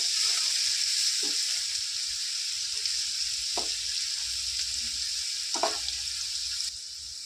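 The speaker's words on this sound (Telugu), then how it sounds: "అల్లం వెల్లుల్లి పేస్ట్ పచ్చివాసన పోయేంత వరకు గ్యాస్ సిమ్లో ఉంచుకొని చక్కగా ఫ్రై చేసుకోవాలి" Ginger garlic paste fries in oil over a low gas flame for mutton pickle, giving a steady, soft sizzling hiss. A few faint scrapes of stirring come through now and then.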